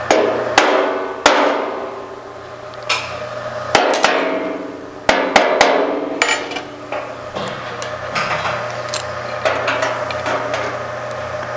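Sharp hammer blows fold down the flange on a hand-shaped Jaguar E-Type bonnet, a close, ringing metallic series of strikes, some clustered and some spaced apart, each followed by a brief resonant decay with no talking.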